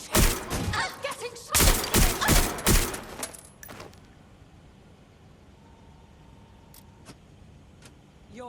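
Loud, close bursts of automatic gunfire crack out in rapid succession during a street shootout in Watch Dogs: Legion, then give way to a low ambient rumble with a few isolated sharp reports later on.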